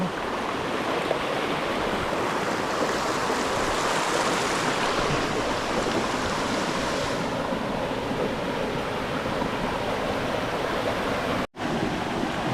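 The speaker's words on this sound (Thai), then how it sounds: "มีหลายชั้นมากๆเลยนะครับน้ำตกว่าภูแก้ว" Wa Phu Kaeo, a multi-tiered waterfall in Korat, Thailand, roars steadily with a dense, continuous wash of falling water, loud and close throughout, with a brief dropout near the end.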